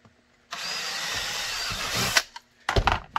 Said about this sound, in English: let's drill these